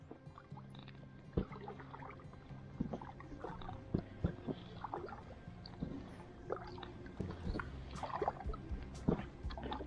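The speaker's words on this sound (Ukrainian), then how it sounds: "тепер сідаємо в човен і пливем" Small splashes and drips as a kayak is paddled on an autumn river during a spinning-rod fishing trip, irregular close water strokes over a low hum, with no talking.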